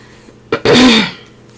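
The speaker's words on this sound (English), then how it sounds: "Still coughing up a lung here." A single harsh cough bursts out close by, short and throaty, in an otherwise quiet moment.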